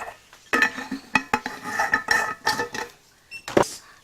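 A knife slicing dried red dates on a cutting board in a kitchen, a close series of sharp knocks and scrapes with irregular rhythm and short pauses, no talking.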